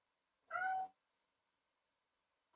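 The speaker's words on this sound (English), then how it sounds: "My cat's hungry." A hungry house cat gives a single clear meow, close and fairly loud, followed by quiet.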